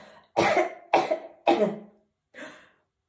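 Four harsh coughs in a row, the first three close together and forceful, then a softer fourth after a brief pause, loud and near in an otherwise quiet setting.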